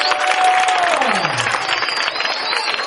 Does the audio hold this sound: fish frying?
no